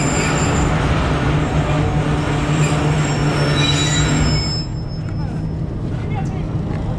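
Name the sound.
Mehar Express train at Sanama station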